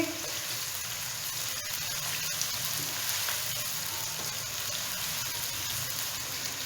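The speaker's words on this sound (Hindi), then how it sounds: "उसमें हम 1 कप जो प्याज थी उसको हम थोड़ा सा सौते करेंगे" Sliced onions sauté in oil over a medium-high flame, making a continuous even sizzle with a faint watery hiss and occasional soft stirring, close and steady throughout.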